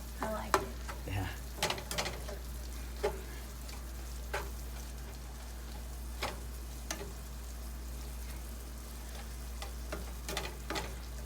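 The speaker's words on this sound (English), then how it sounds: "while you are cooking the onions" Onions frying for chili hiss in a steady sizzle across the whole stretch, with scattered clicks of a utensil stirring the pan.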